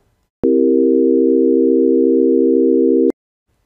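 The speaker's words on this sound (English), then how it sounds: "consider C dominant seventh chord with tones, equal temperament" A sustained electronic C dominant seventh chord in equal temperament, steady pure tones, holds for under three seconds, with a faint pulsing beat running through it, then cuts off abruptly.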